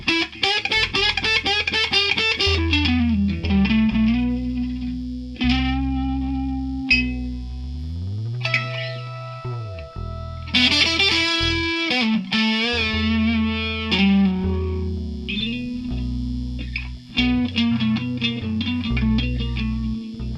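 Music recorded straight through microphones without reamping, a dry band take with distorted guitar and sustained bass notes playing continuously and loudly throughout, with no voices.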